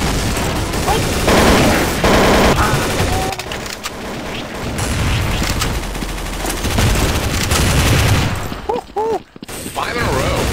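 Steady, dense gunfire from Counter-Strike: Source rattles almost nonstop for several seconds, loud and close, with rapid automatic bursts and brief breaks, while a player talks over it.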